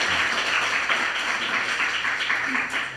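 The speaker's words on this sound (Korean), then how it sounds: "우리 하나님 앞에 영광의 박수 한번 돌리시면 좋겠습니다" A church congregation at a Presbyterian service applauds together in steady, dense clapping that fills the room, with a faint low hum beneath and no break for about three seconds.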